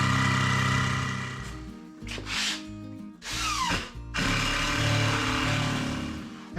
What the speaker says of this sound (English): I've got a couple more screws to just put in the end here.